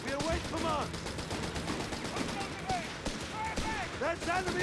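Rifle fire crackles in the Company of Heroes 3 battle between German Wehrmacht and British forces, scattered sharp shots and bursts mixed into dense battlefield noise, with a voice talking over it throughout.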